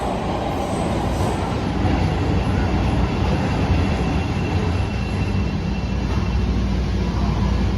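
Aboard a moving Chicago Red Line subway train, a loud, steady rumble of wheels on rails and running motors continues throughout, with a faint high whine above it.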